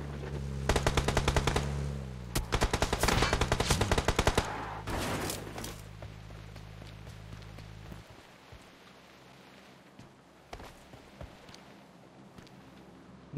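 Rapid bursts of automatic gunfire in the mobile battle royale game PUBG Mobile, loud and dense for the first few seconds, then giving way to scattered single shots over rain and ambient game noise.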